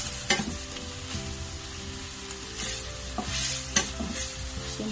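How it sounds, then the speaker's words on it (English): Seasoning and sauce for a Nigerian meat pie filling stir fry in a pan, with a steady close sizzle and repeated scraping stirs of a utensil against the pan, no talk over it. "Our seasoning and our sauce. So we're just going to stir fry."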